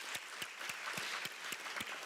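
Applause at a school board regular session, a steady patter of many hands clapping at moderate distance with no voices over it.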